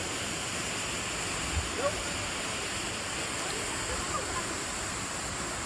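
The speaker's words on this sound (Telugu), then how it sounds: "ఆన్ ది వే చాలా వాటర్ ఫాల్స్ వచ్చాయండి. ఇది ఒక వాటర్ ఫాల్." Steady broadband rush of a waterfall in Kerala on a foggy day, loud and continuous throughout with no breaks.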